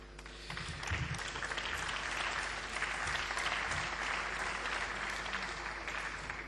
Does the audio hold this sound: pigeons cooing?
no